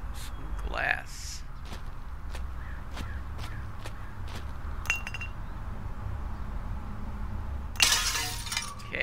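Glass shatters in a recycling center video game, with a sharp crash near the end after a run of clinks, taps and footstep-like knocks, all over a low steady hum.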